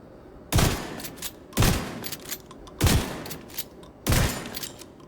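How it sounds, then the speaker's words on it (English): A shotgun fires in the shooter video game The Division 2 with four loud, evenly spaced blasts roughly a second apart, each with a short echoing tail. "I'll demonstrate with the shotgun."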